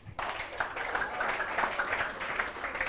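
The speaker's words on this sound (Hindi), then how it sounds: "छोटू के लिए ताली" A classroom audience clapping for a student: scattered, moderately loud applause from many hands, continuing steadily for a few seconds.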